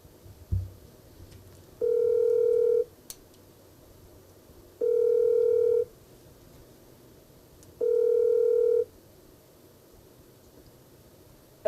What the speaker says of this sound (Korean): 한번 전화 연결을 한번 해보려고 합니다